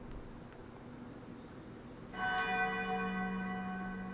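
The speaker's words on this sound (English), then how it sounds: "Oh, that bell is always on time, bro." A bell rings out after about two seconds of quiet room noise, a sustained resonant tone with layered overtones that swells and then lingers moderately loud to the end, with no talking.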